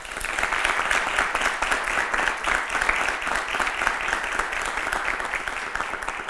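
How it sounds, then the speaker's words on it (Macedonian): A studio audience applauds during a Macedonian television talk show, dense continuous clapping that holds steady and loud throughout without a break, with no speech over it. "Ве молам за еден аплауз."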